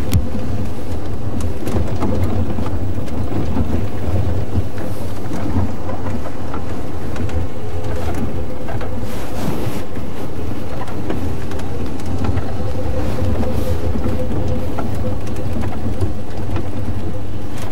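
Steady heavy rain pours throughout with rumbles of thunder from an approaching thunderstorm on a wild African night, loud and continuous with no voices.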